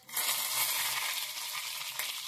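Green chillies sizzle and crackle in hot tempering oil with cumin and mustard seeds, a steady close frying hiss that holds briefly with no talk.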